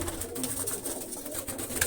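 Pigeons coo in a rooftop loft, a soft continuous murmur of several birds close by with no talk over it.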